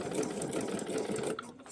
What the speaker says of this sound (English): My sewing machine's feed dogs are really grabbing it.